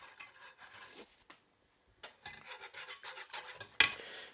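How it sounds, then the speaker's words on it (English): Sugar, water and glucose are whisked in a pot on the heat, giving a grainy scraping and rubbing in uneven strokes, close and fairly quiet, with a short pause partway through. "In a pot or pan, we'll get sugar, water, and glucose following our recipe. Turn on the heat, and we'll whisk until this is dissolved"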